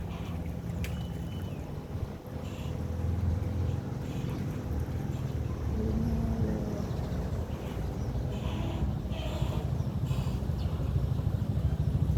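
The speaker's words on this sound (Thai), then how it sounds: "เรือมาอีกแล้วครับเยอะมาหลายลำเลย" Several boats motoring along the Chao Phraya river in the evening, where the water runs high and muddy red; a steady broad engine and water rumble continues throughout, with wind buffeting the microphone and no talking.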